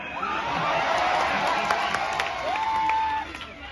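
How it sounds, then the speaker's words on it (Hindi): At a hospital opening in Amroha, a crowd greets Bollywood actor Gulshan Grover with continuous clapping and cheering that holds steady for several seconds, mixed with voices and a few higher whoops. "बस जोरदार तालियां हो जाए गुलशन सर के लिए"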